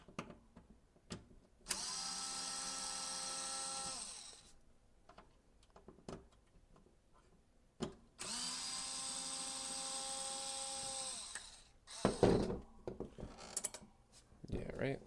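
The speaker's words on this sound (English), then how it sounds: "Now I'm going to get the smaller screwdriver to take out the tiny little screws in front." Tiny screws are removed from a GameCube with a small electric screwdriver that whirs in two sustained bursts of a few seconds each, and scattered clicks and handling clatter fill the gaps.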